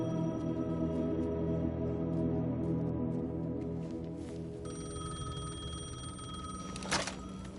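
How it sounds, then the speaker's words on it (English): A payphone rings in Alan Wake 2, a steady electronic bell tone that repeats over a dense game ambience, with a brighter, louder burst near the end. "The payphone was ringing."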